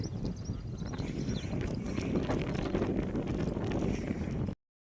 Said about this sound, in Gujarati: પવન અહીં જોરદાર આવે